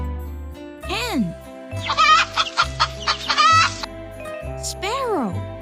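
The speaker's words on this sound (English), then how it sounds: "Hen." A hen clucks in quick, rhythmic bursts, close and fairly loud, set against a bright children's music bed with a voice naming birds.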